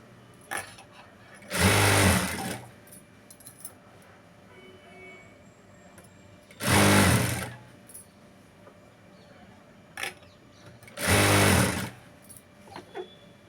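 A sewing machine stitches piping onto a lined blouse in three loud, close bursts of rapid mechanical whirring, each lasting about a second, with quiet pauses between them.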